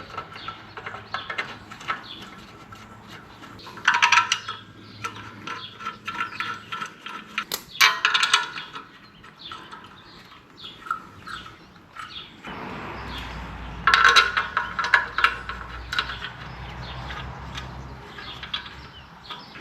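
Bolts are fitted on the clutch pressure plate of a Farmall 460 tractor, heard as short bursts of metallic ratcheting and clicking between quieter stretches of faint clatter, with no voices.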